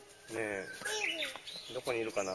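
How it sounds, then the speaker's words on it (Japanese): A Japanese bush warbler (uguisu) sings outdoors, its brief high calls faint and partly buried under people talking nearby. "ウグイスが鳴いてますね。"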